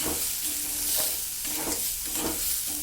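Green pea paste fries in oil and is stirred steadily, producing a continuous dense sizzle with rhythmic scraping swells of the spoon through the paste, close and fairly loud, with no talking.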